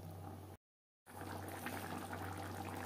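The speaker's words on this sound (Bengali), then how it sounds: "গ্রেভির সাথে মাছ আরও 4-5 মিনিট রান্না করব।" Bhola vetki fish curry simmering in gravy, a steady bubbling hiss with a low constant hum, briefly cut to silence before resuming.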